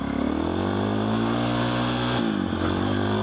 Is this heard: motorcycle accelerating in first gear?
yes